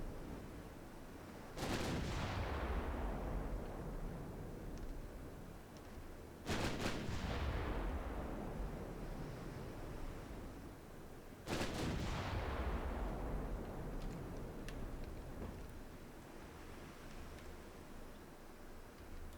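Heavy naval artillery in the Ultimate Admiral Dreadnoughts warship game: three loud booming gun salvos spaced several seconds apart, each with a long rumbling decay, with no voices over them.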